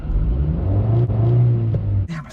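A 2002 Honda Civic EX with a manual five-speed bogs down and stalls, its steady low engine rumble sagging and then cutting out abruptly near the end, leaving a brief rustle.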